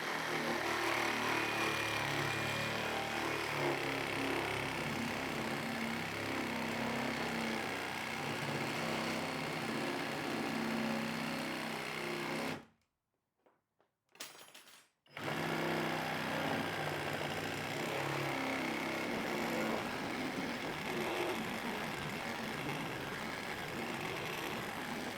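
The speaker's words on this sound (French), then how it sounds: "là, on passe sur la lame spéciale bois qui est beaucoup plus agressive." A Hilti SR 2-A12 12V cordless reciprocating saw cuts with an aggressive wood blade, giving a steady, close, buzzing roar that stops for about two seconds midway, then resumes and runs on continuously.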